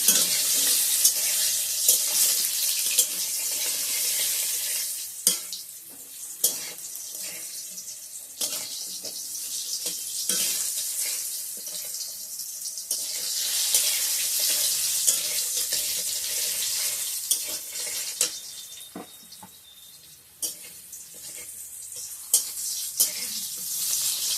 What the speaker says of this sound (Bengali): তো আলুগুলো অল্প ভেজে নিয়ে নিই।